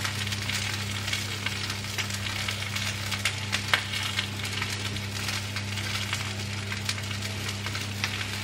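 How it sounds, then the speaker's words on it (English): Salmon fries in a pan with a soft, continuous crackle and sizzle, quiet and close, with scattered small pops over a low steady kitchen hum and no voices. "the salmon is still cooking"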